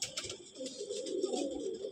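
Pigeons in a breeding loft coo softly and continuously, a low, steady warbling murmur at moderate distance, with faint rustling and chirpy sounds from the birds overhead and no talking.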